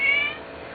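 A cat's meow, a single short call that starts loud and tails off over under a second, heard alone with no talking.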